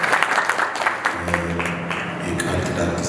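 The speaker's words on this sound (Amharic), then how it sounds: "እስኪ እንኳን ጌታ ረዳችሁ ብላችሁ አጨብጭቡላችሁ።" Wedding guests at a church wedding ceremony clap together in a sustained, fairly loud round of applause that fills the room, with some faint voices mixed in.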